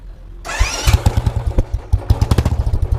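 A Royal Enfield Bullet motorcycle fitted with a homemade silencer cranks and fires up, then settles into a loud, close, deep thumping idle of rapid regular beats, with no talk.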